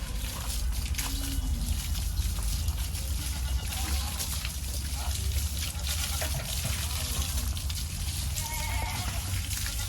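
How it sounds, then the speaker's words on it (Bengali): Water running from a pipe over a goat being bathed at Gabtoli livestock market, a steady trickle and splash half-buried beneath busy crowd noise and background chatter. "তো পাইপের মাধ্যমে পানি দিয়ে প্রথমে গোসল করানো হচ্ছে, ভিজিয়ে নেওয়া হচ্ছে শরীরটাকে।"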